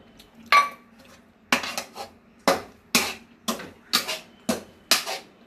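A spoon scrapes and clinks against a pan while beetroot stir-fry is tossed, making about eight sharp metallic strikes at a steady, roughly half-second beat, close and clear, with no talking.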